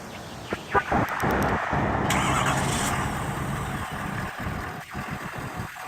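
A 2018 Ford F-250's 6.7 liter Power Stroke diesel engine cranks and catches on remote start, then settles into a steady low rumble that gradually eases toward an idle.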